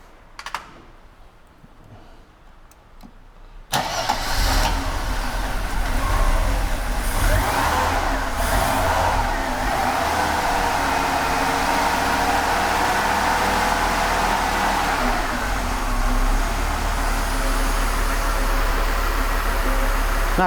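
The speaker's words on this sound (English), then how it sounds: "No, that's actually a very smooth idle." An old Mercedes engine cranks and catches after a few quiet seconds, then settles into a steady, smooth idle around 750 RPM, loud and close, holding an even drone to the end.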